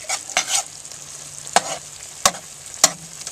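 Chili meat is stirred in a Dutch oven on a Grill Dome, with a soft steady sizzle broken by several sharp scrapes and clanks of the spoon against the pot.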